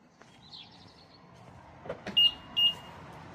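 A BMW unlocks with a CF920FM keyless entry smart key: faint mechanical clunks followed by two short, bright electronic chirps from the car, close and clear against quiet surroundings.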